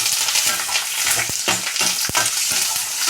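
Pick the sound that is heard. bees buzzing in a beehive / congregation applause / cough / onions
onions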